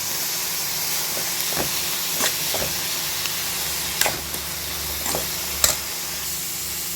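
Banana stem stir-fry with grated coconut is stirred in a pan over steady frying hiss and steam, with several sharp scrapes and taps of the spoon against the pan rising above the sizzle.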